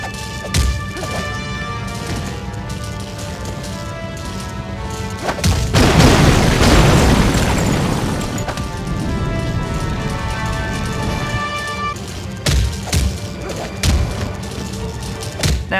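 Melee punches and strong finishing hits land in Spider-Man 3 on the Wii, a burst of heavy crashing thuds and smacks peaking mid-scene over a steady bed of game music, with scattered sharper thumps afterward.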